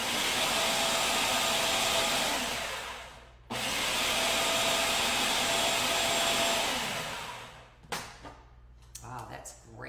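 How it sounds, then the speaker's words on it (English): A food processor pulses a non-dairy cheesecake crust mixture in two long, loud whirring bursts close by, then stops, leaving faint clatter and a brief voice. "What I wanna do is I just wanna pulse this until it's well mixed."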